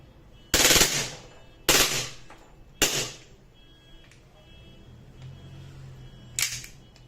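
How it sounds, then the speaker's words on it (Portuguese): Airsoft Glock G18c pistol powered by CO2, firing short full-auto bursts: three sharp close rattling volleys in quick succession, then a fainter fourth after a pause, with quiet mechanical handling noise between them. "Agora a gente vai para a rajada, full alto."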